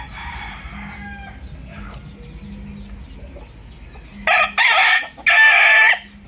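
A three-year-old fighting gamecock of about 2.5 kilos crows loudly up close in three bursts near the end, after quieter clucks and background rumble.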